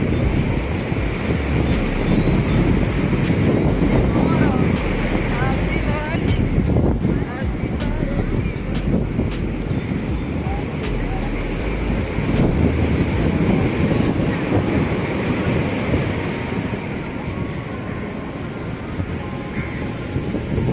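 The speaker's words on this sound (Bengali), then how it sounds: "সমুদ্রের গর্জন শুনতে পাচ্ছি" Sea waves at Puri beach during a morning bathing crowd, a steady roaring wash of surf with wind buffeting the microphone, continuous and loud throughout, with faint voices underneath.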